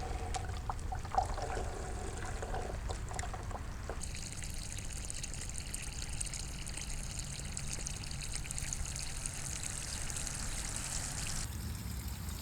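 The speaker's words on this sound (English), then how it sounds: "I took the aquarium outside to rinse out the baking soda" Water rinsing baking soda out of an aquarium tank outdoors, a steady, low trickling wash of running water that continues at an even level throughout, with a faint hiss above it.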